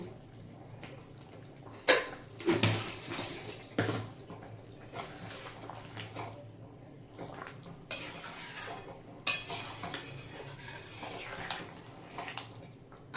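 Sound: stirring raw hilsa curry in a pan

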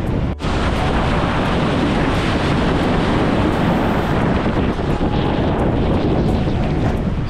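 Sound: rough sea waves with wind

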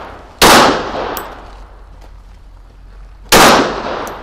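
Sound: gunfire at targets

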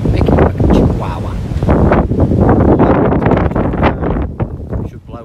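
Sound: strong wind while kayaking at sea

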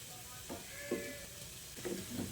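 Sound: fritters frying in oil

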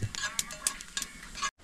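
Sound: onions frying in a pan

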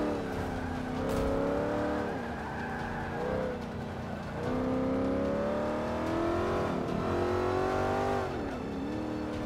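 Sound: car engine and exhaust in video game

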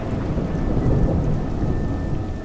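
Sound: rain and thunder in the video game Juggler's Tale

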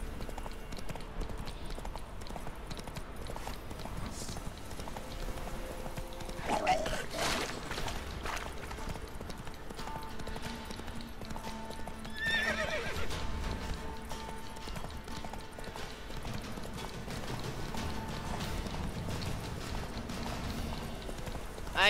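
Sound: horse Roach galloping in video game The Witcher 3

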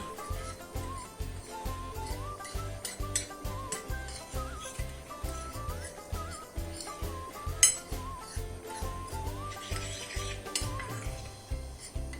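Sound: mixing cornmeal with salt and pepper in a bowl

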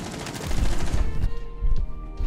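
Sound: gunshots hitting the floor in Rainbow Six Siege video game

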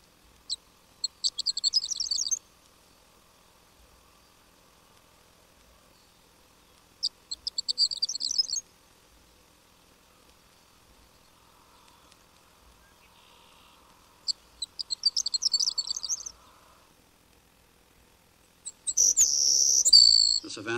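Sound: prairie horned lark singing

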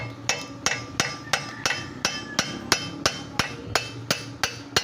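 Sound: hammering the axle of a 2012 Corolla Altis

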